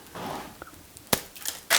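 A few sharp, crisp crunches from biting into a brittle Anzac biscuit, close and distinct, with quieter chewing sounds in between.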